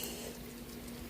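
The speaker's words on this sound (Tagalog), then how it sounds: "Kumukulo na." Steady bubbling rumble of pork sinigang soup with guava boiling in a pot, continuous and close, with no voices.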